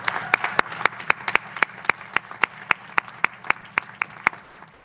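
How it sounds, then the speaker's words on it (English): A large graduation audience at the Madeira School 2021 commencement claps for the graduates' parents: a dense wash of applause with a few sharp, evenly spaced nearby claps standing out, steady for about five seconds. "would you please join me in giving your parents a huge round of applause"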